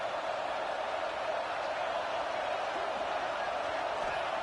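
A football stadium crowd at an NCAA game roars in a broad, steady wash of cheering and noise, loud and continuous from start to finish, with no clear single voices standing out.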